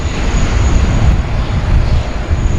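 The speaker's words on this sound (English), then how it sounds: "the Air India Dreamliner wearing the Star Alliance colour scheme" Air India Boeing Dreamliner in Star Alliance livery taking off from Sydney Airport, a loud, steady broadband jet roar with a deep rumble throughout.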